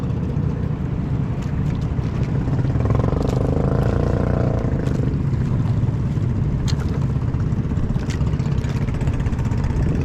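Continuous droning rumble of motorboat engines, loud and steady throughout, with a rising whine in the middle like a passing boat motor.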